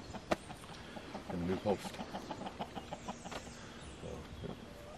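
Chickens clucking in a farmyard coop during evening chores, a series of short, fairly close clucks in a steady run, mixed with people talking nearby.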